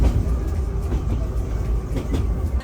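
Steady low rumble of a metro train in Armenia running along the rails, a continuous rolling drone with faint rattles and no voices.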